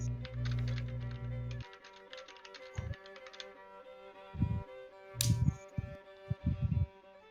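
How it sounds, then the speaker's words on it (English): Bursts of rapid clicking on a computer keyboard, a fast run of keystrokes followed by scattered separate taps, with a steady electronic hum underneath and no talk. "I'll type it in."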